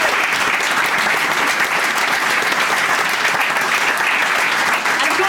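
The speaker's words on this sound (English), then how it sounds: "an extra special round of applause for our guests tonight" Sustained, dense applause from a studio audience for guests on a comedy panel show, loud and continuous for several seconds without pause.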